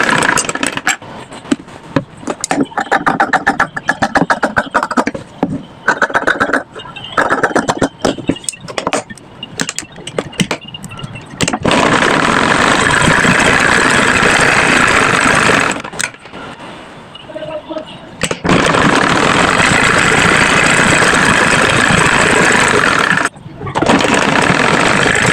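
A sewing machine stitches pieces onto a dress, starting with short irregular rattling bursts, then running in long, steady, loud motor-driven stretches with brief pauses between runs.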